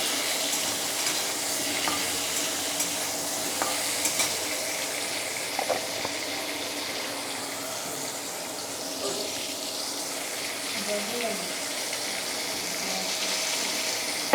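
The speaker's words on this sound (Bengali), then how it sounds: "লবণ দিয়ে আমি তাড়াতাড়ি ভেজে নেব।" Food fries with salt in a pan, giving a steady, close sizzle that runs unbroken for the whole stretch, with faint scraping and small clinks now and then and no talking.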